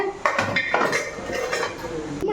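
Metal pressure cooker lid clattering and clinking as it is set over prawn dum biryani, a few close, sharp metallic knocks with no speech.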